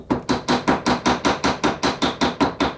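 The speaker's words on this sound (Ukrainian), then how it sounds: "Вирівнюємо пару виточків пружини, наковаля молоточок і вперед." A small hammer strikes a piece of spring wire on an anvil in a quick, even series of about a dozen sharp metallic blows, loud and close.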